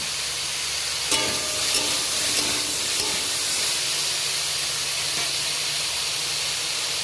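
Slit green chilies hit hot oil in a pan for a spinach and mixed-vegetable dish, setting off a loud, continuous hissing sizzle with a few light clinks early on.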